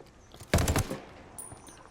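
A short-barrel P416 rifle fires a quick burst in Ghost Recon Wildlands, several rapid close shots fused into one loud half-second volley, followed by faint echoing tail.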